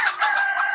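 A chicken gives a short, clear call in a farmyard where guinea fowl gather under a tree, one brief, fairly loud, slightly wavering cry that fills the whole moment with no voices.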